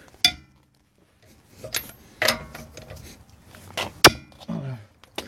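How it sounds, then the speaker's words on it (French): Wheel nuts are loosened with a wrench on a Seat Leon 1L9 TDI, producing a close series of metallic clinks, clanks and ratcheting clicks separated by brief pauses. "Et vous débloquez dans le sens inverse des aiguilles d'une montre, bien sûr."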